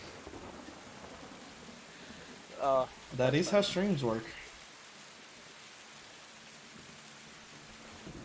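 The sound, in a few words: rain in a video game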